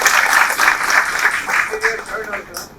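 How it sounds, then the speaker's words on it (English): Audience applause at a talk on the future of payments, steady clapping from a moderate crowd that fades toward the end, with a speaking voice faintly over it. "So, big round of applause for this one."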